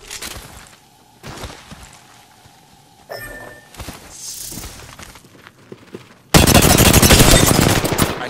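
Gunfire in Apex Legends: scattered single shots and bursts early on, then a loud sustained stream of rapid automatic fire dominates the final seconds, with footsteps and movement noise between.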